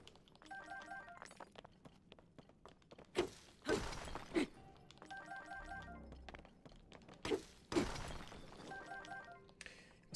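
Ore deposits being smashed with a weapon in Zelda: Tears of the Kingdom: two pairs of sharp, shattering impacts with crunchy thuds, heard over a soft game soundscape with chiming tones.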